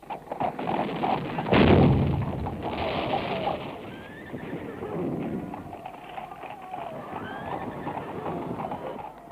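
Horses galloping in battle as a radio play sound effect, a rumbling clatter of hooves with a loud burst near the start and a steady running sound after, with a voice narrating underneath.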